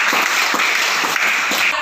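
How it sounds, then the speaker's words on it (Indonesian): A classroom full of children applauding together, a brief, dense and steady burst of many hands clapping at once. "Oke, tepuk tangan kita semua."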